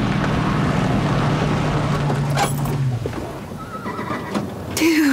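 A horse whinnies over a loud, steady background rumble, with a brief higher sound near the end.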